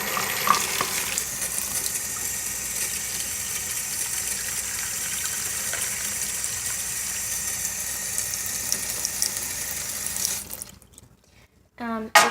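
Water runs steadily from a kitchen tap into a cup, a bright, even hiss that continues for about ten seconds before the flow stops and a few clinks follow.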